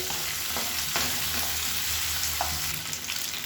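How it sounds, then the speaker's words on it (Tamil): Vegetables sautéing in a pan for a kulambu, with a steady, close sizzle and fry hiss running throughout and a few soft stirring scrapes; no talking. "இது எல்லாத்தையும் சேர்த்து வதக்கிக்கலாம்."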